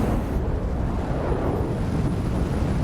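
An oil and gas mine exploding in a movie, heard as a dense, loud low-end roar of blast and fire that rumbles on steadily without a break.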